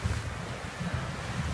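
Ocean waves and gusting wind roar steadily aboard a sailboat in the North Atlantic, a dense continuous rush with wind buffeting the microphone and no voices.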